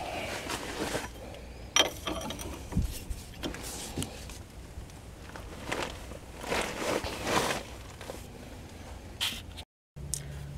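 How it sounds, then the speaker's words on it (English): Ratchet loosening the pinch bolt that clamps a strut to the steering knuckle on a car's front suspension, giving bursts of clicking and metallic scraping with short pauses, close up and moderately loud against steady workshop background noise. "You'll see the strut to steering knuckle pinch bolt retract from this side as I loosen it."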